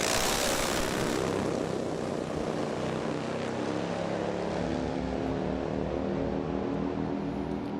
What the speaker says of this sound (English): Slight hole shot advantage goes to Dave Ostrowski, but Willie Hirschberger's got serious horsepower